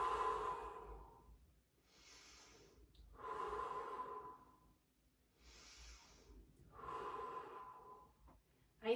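A person holding a yoga pose breathes slowly and audibly, three long airy breaths with soft nasal hiss, close and quiet, each separated by a brief pause.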